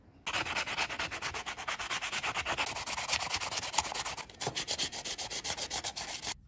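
Small plastic figures for an RC boat model being hand-sanded, giving a close, steady rhythmic rasping of quick back-and-forth strokes with a brief pause partway through and no talk.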